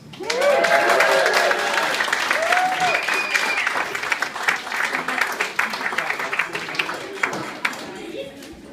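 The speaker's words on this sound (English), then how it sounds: "put your hands together and give a very, very warm welcome" A crowd applauds steadily, dense clapping with some cheering voices at first, gradually thinning toward the end.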